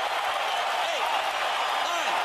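Boxing arena crowd after a knockout from a left hook, a steady roar of cheering and applause filling the hall, dense and sustained, with a few shouted voices rising above the wash.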